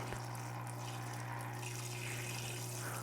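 Water sprays steadily from a BikeMaster portable parts washer into its basin, a constant close hiss over a low pump hum.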